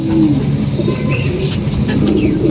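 Racing pigeons coo softly at close range over a low rumble of background noise, the calls running through the whole moment without pause.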